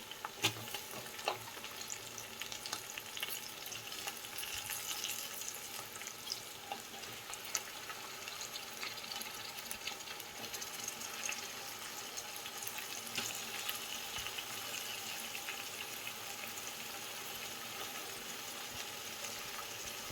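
Boti (tripe) tipped into a hot pan for bagara rice boti curry, then frying with a steady, close sizzle and crackle that runs throughout, with occasional stirring clatter and no talk.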